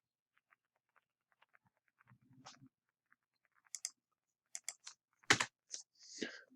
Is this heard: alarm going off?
no